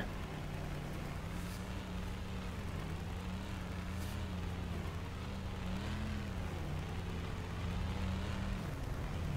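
A monster truck engine in the BeamNG Drive video game drones steadily, its pitch wavering up and down as it revs, at an even, fairly loud level with no voices.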